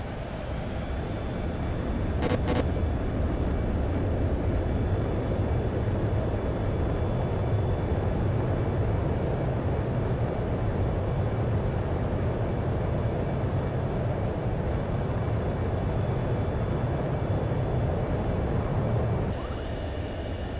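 Fighter jet taking off in Ace Combat 7, a loud sustained engine roar and rumble that holds steady for a long stretch before cutting off near the end.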